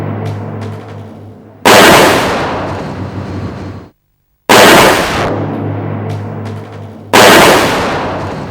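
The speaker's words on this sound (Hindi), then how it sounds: "Very good shot. सारी गोलियां निशाने पर लगी है।" Three loud gunshot volleys at shooting practice, each a sharp broadband blast with a long decaying tail, separated by brief silence, near and forceful.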